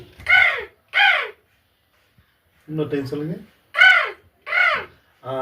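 A person imitates a crow, giving several loud caws in pairs with pauses, and briefly speaks between the calls.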